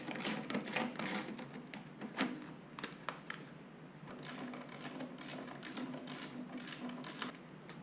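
A ratchet clicks in quick close bursts while removing bolts from the silencer of a 2-stroke dirt bike, with short pauses between runs of rapid pawl ticking and no talking.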